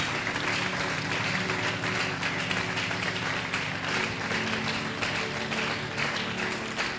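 Church congregation applauding and cheering, dense continuous clapping from a large crowd with mixed voices, loud and sustained throughout.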